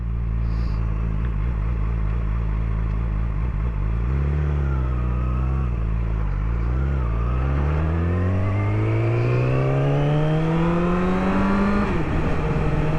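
A motorcycle engine runs steadily during a night ride, its pitch rising and falling as the rider shifts through gears and accelerates, loud and close throughout with no talking.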